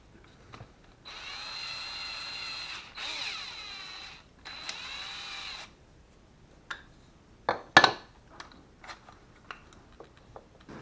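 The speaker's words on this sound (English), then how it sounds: "Mount it into a drill and you're ready to go." A drill spins up a single-flute countersink bit in several sustained whirring bursts, each a few seconds long, followed by a scatter of sharp clicks and knocks as the tool is handled, with no speech.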